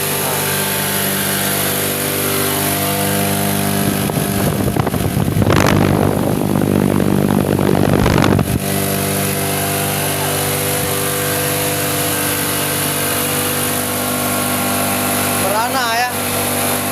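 Honda Revo FI motorcycle engine with a smoking fault, idling as a steady mid-loud hum with a louder revving surge lasting a few seconds in the middle.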